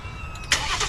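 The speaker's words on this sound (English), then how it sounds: "So if we lock this, we can double tap that button and fire it up." A Jeep Gladiator Sport S fitted with 38-inch tires starts by remote start, its engine cranking and catching with a sudden loud roar into a steady rumble, heard close by after a brief quiet moment.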